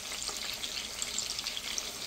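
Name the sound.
frying mrigal fish with chili and turmeric powder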